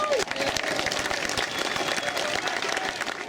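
A crowd at the Hermosa Beach Surfers Walk of Fame ceremony claps steadily for an inductee outdoors, a dense, even patter of many hands with scattered whoops mixed in.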